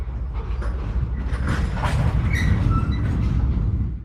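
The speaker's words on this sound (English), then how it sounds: "You can hear the trains around you" London Underground tube trains running in a train simulator game, a continuous rumbling rail roar with metallic clatter and faint wheel squeal, steady and fairly loud throughout with no talk.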